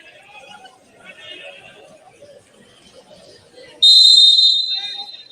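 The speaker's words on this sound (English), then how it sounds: "the whistle is forthcoming" A referee's whistle blows once, long and shrill, at a COSAFA Cup football match between Seychelles and Botswana, cutting in loudly after a stretch of crowd noise and commentary.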